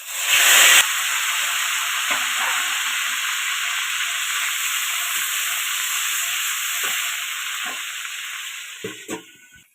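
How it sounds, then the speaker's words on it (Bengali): Barramundi fish fat frying in oil under a plate lid, a loud continuous hiss that bursts briefly at the start and fades slightly toward the end, with faint clinks beneath. "তেলটা ভাজা হোক, 2 মিনিট চাপা দিয়ে ভাজবো"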